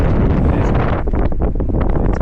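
Strong wind on a hilltop lookout in St. John's, Newfoundland buffets the microphone with a loud, rough roar and gusty rumble throughout.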